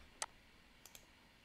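A mouse click on a submit button during Xsense Home Security integration setup: one sharp, faint click near the start, then two softer ticks close together about two-thirds of the way through, all isolated against a quiet background.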